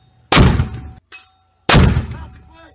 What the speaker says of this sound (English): Rick immediately calls for a mortar mission to hopefully pin the menacing vehicle.